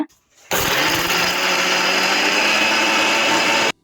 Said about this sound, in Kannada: ಅರ್ಧ ಕಟ್ಟು ಪಾಲಕ್ ಸೊಪ್ಪನ್ನ ಹಾಕೊಳ್ತಾ ಇದೀವಿ ಮಿಕ್ಸಿ ಜಾರಿಗೆ. ಬರ್ರಿ ರುಬ್ಕೊಳ್ಳೋಣ.